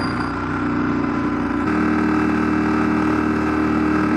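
A Yamaha Ténéré 700 motorcycle with a used Arrow exhaust, baffle removed, runs at a steady, close idle with a deep, throaty drone that shifts tone slightly partway through; no talking.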